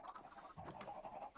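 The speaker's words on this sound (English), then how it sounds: "you guys may notice I built a second chicken farm, which is why there are so much chicken noises" Minecraft chickens cluck repeatedly at a crowded chicken farm, several birds overlapping in a steady, fairly close chorus of short clucks.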